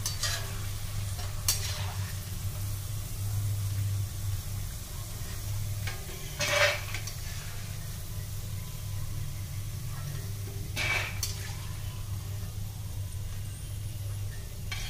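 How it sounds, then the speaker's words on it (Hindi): Potato tilauri frying in a pan, with steady low sizzling under a few sharp stirring scrapes spaced across the clip, close and moderately loud, no talking. "हम इसे अच्छी तरीके से चला लेंगे।"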